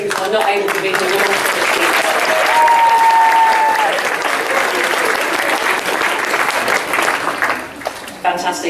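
A school awards ceremony audience claps in a loud, dense, continuous round of applause that carries on for several seconds, with a few voices faintly audible beneath it before it briefly dips and resumes.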